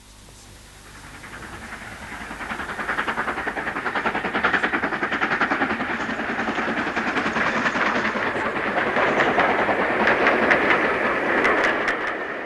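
A Stanier Black 5 steam locomotive from the LMS hauls a parcels train through a gorge, its rumble and clatter building from quiet to a loud, sustained roar as it draws near.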